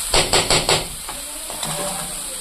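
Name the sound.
mushrooms frying in oil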